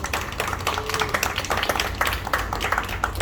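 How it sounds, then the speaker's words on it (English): Small audience at a gallery event clapping in a steady, moderately loud round, individual claps distinct within the patter, with murmured voices underneath. "Can we have another round of applause?"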